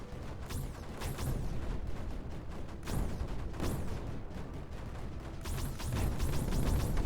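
Cannon artillery in the Creeper World 4 strategy game fires repeatedly in bursts of sharp booms, each followed by a falling whistle, layered over a steady rumbling game soundscape.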